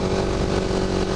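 A motorcycle engine revs hard and steady up close during a wheelie attempt, a continuous loud drone filling the short moment.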